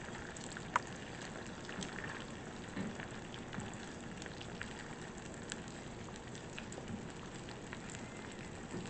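Scrambled eggs cooking in a pan over medium heat give a steady, soft crackling sizzle that runs evenly throughout, with no voices.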